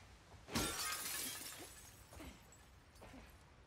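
Glass shatters in The Last of Us Part 2, a single loud crash followed by tinkling debris and a few smaller cracks and fragments falling over the next few seconds.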